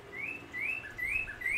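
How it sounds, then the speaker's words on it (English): A northern cardinal sings in a backyard, four clear rising whistled phrases repeated evenly at close range over a soft, steady background hum. "North Carolina state bird, the cardinal."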